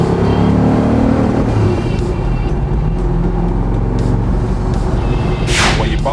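A Saleen S7 Twin Turbo Competition hypercar's engine is revved under boost. It gives a loud, deep, steady rumble, and a sharp hissing burst comes near the end.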